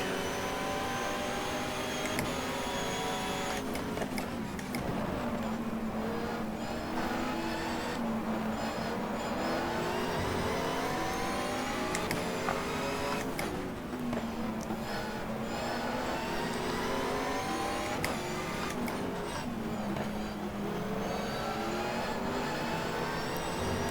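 Lister race car engine in the GTR2 racing game at Enna Pergusa, a loud continuous roar rising and falling with repeated revving and gear changes, with no talk over it.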